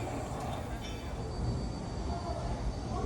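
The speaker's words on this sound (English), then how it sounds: "Do you hear the train whistle and the train going?" A train rumbles along with a low, steady roar and clattering undertone, heard from fairly close at a railroad museum, without any clear speech.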